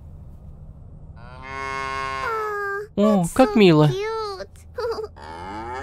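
Cows mooing in the video game Little Misfortune, several long drawn-out lows in close succession, loud and near, with a short spoken remark in between.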